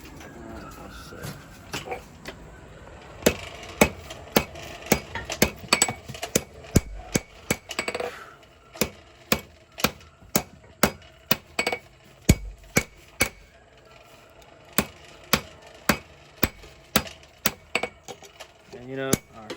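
A hammer strikes hot steel being forged into a backwoods knife, sharp ringing metallic blows landing in rapid irregular runs and then in a steady rhythm, close and loud.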